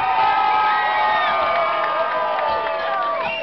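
An audience at a lively birthday party show cheers and shouts together, a dense, loud and sustained roar of whoops and high voices with no break.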